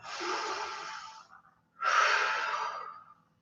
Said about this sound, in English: 2 more full deep breaths here.